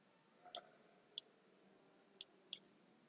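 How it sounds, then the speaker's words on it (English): Computer mouse clicks while rotating a resistor in circuit simulation software: four sharp, quiet clicks spaced irregularly, with a double click near the start, alone over faint room hiss. "rotating this resistance by clicking on this one and pressing Ctrl R"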